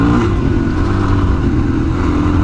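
Suzuki DRZ400S motorcycle accelerating hard and lifting a small wheelie off bumps, its single engine a loud, close, steady roar with no pauses.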